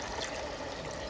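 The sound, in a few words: water poured back into beef stew pot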